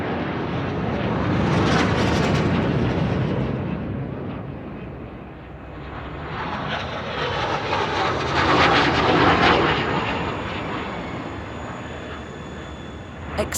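US Navy F-18 Hornet jets roar overhead in a salute from the USS George Bush, a loud broadband rush that swells, eases and swells again as the aircraft pass.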